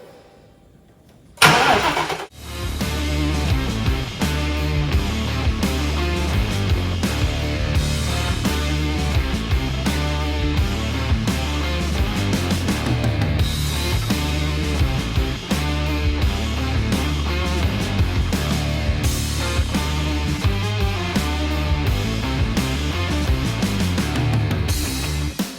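A car engine with a newly installed exhaust system cranks and fires up, then settles into a loud, steady, deep rumbling idle with a throaty exhaust note that continues throughout.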